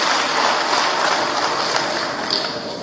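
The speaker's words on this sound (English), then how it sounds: "I would like a round of applause for him for being able to lead us like that" Audience applause for the governor at the Alaghodaro 2021 event in Edo, a steady dense clapping across a large hall, loud and sustained with no talk.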